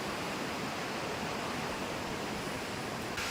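Steady broadband roar of the Tumpak Sewu waterfall in Pronojiwo, East Java, heard from below the falls as a continuous, dense wash of falling water with no talk.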